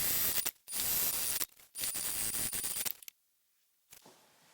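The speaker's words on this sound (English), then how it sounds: "I'm just going to sew across, and then I'll also sew across the bottom." Sewing machine stitching three horizontal lines across a slip pocket on a bag, loud close bursts of fast mechanical whirring broken by short pauses, then quiet with a faint click.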